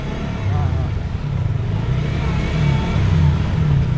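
A motorbike engine revving as a new rider tries to get the bike moving, a steady mid-pitched drone that swells and climbs in pitch toward the end, close and fairly loud.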